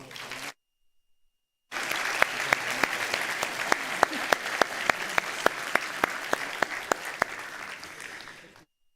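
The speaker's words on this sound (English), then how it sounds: "How about one more round of applause?" After a brief pause, an audience at a county sheriff's office awards ceremony breaks into a full round of applause, with crisp individual claps standing out before it gradually fades.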